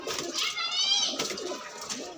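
Pigeons, Punjabi, Madrasi and desi birds at a pigeon shop in Trilokpuri, give a brief close coo amid a voice talking and background chatter.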